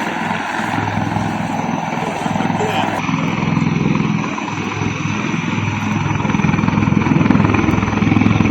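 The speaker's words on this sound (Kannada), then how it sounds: "ಭಾರತೀಯ ನೌಕಾಪಡೆಯ ಹೆಲಿಕಾಪ್ಟರ್ ಬಳಸಿ ಏರ್ ಲಿಫ್ಟ್ ಮಾಡಲಾಗಿದೆ" An Indian Navy helicopter airlifting people stranded at hotels in Sunkasala near Karwar gives off a loud, continuous rotor and engine roar that holds steady throughout.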